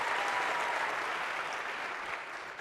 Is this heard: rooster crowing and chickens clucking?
no